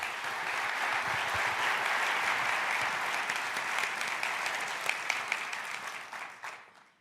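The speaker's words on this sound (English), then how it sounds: "Please give him a big round of applause." A large audience at a Hyundai CES 2024 presentation breaks into sustained, dense applause that holds steady for several seconds, then thins out and fades toward the end.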